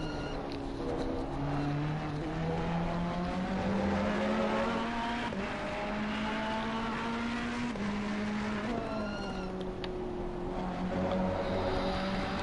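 Race cars including a Ferrari and a Porsche screaming around Monza in a racing sim, a loud sustained engine wail rising and falling through gear changes with another car close behind, no talking.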